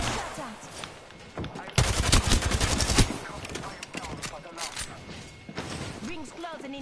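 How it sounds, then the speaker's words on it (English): Gunfire in a video game: sporadic shots, then a loud rapid automatic burst lasting about a second, followed by quieter scattered cracks, with a person speaking over much of it. "Listen up, I'm getting shot at."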